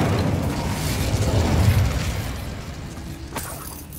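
Incendio fire spell cast in Hogwarts Legacy, a loud whooshing fiery burst with low rumbling body that swells and then fades, followed by a sharp crack near the end.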